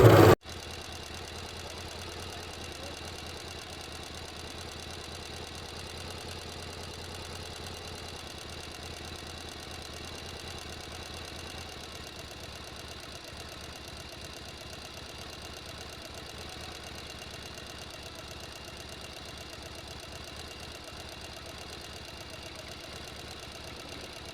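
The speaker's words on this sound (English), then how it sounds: "serge all the way around both seams" A serger sewing machine runs steadily while serging the seams of a dress panel, producing a continuous mid-pitched motor hum with a faint mechanical rattle, close and unbroken for the whole stretch.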